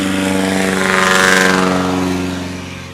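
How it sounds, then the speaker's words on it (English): A loud propeller airplane passes close by at a STOL practice airpark, its engine drone swelling to a peak and then easing off as it moves away, with no voices over it. "That is a loud airplane."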